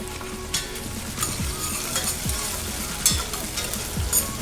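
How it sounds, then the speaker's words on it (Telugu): Chickpeas frying in a pan with onions, dried red chillies and curry leaves, giving a continuous crackling sizzle punctuated by regular scraping stirs of a spatula, close and moderately loud. "ఇప్పుడు శనగలు వేయించుకుందాము కొంచెంసేపు."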